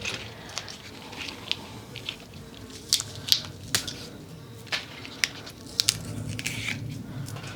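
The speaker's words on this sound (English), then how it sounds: "You can just hear how crunchy the stems are." Crisp crunching and snapping sounds as fresh tulip stems are handled close by, irregular sharp clicks and crackles over a quiet rustling background.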